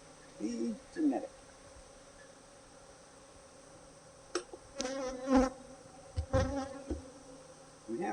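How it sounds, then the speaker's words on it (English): A low honeybee drone runs throughout, with a few brief louder passes and faint movement noises over it, around angry bees on burr comb. "We have some bees right here."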